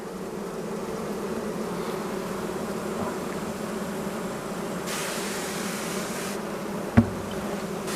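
Honey bees hum in a dense, steady buzz around a hive on a muggy day, with a single sharp knock near the end.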